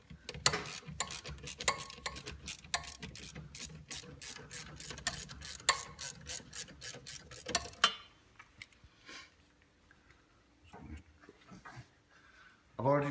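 Quick, rapid ratchet clicks undoing a 10mm bolt on a Nissan engine during a service, loud and close, followed by quieter handling noises and a few clanks.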